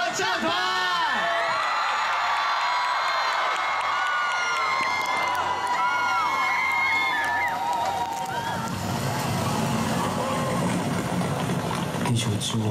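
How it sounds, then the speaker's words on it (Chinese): A large outdoor concert crowd at a 2017 New Year's Day rock show in Hualien screams, whoops and cheers loudly to welcome a band on stage, a dense roar of voices with shrill whistles and shouts that stays steady throughout. "请准备好你的尖叫声，一起来欢迎我们的戏剧合唱团。"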